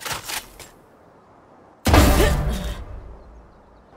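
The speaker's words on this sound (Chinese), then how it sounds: "好，我们再听深度冻结这把。" Gunfire from the Deep Freeze weapon skin in the video game Valorant: a short burst of shots, then a louder sustained shattering, ringing blast fading out.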